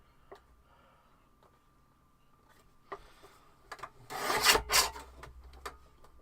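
Scissors snip through Christmas-patterned craft paper being trimmed for an advent calendar, a couple of faint cuts followed by a louder, close burst of rasping cuts near the end.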